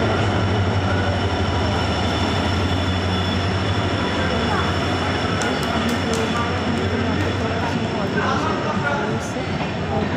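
Steady loud rumble of an air-conditioned coach on the Padatik Express train in motion, with continuous wheel and track noise throughout and faint rattles near the end.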